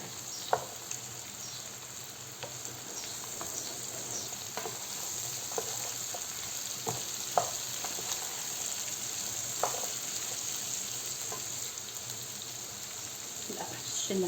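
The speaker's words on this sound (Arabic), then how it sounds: "هلا راح اضيف الفاصوليا." Green beans fry in oil in a pan, giving a continuous soft sizzle with scattered clicks and light utensil taps over about fourteen seconds, fairly quiet and with no voice.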